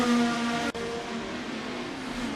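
Red Bull Racing number 22 race car lapping at Portimao during a race, its engine a steady loud tonal drone with a brief cut near the start, then holding on without any voices.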